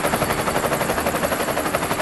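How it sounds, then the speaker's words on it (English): A helicopter flies over Niagara Falls with a rapid rotor chop pulsing steadily, loud and close from inside or near the aircraft, over a constant engine roar. "This was my first flight in a helicopter"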